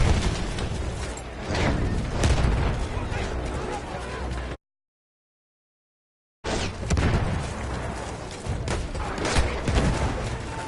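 An artillery battery in a video game keeps up dense gunfire and heavy explosions, loud and sustained under people talking, with a brief dead-silent gap midway before the barrage resumes.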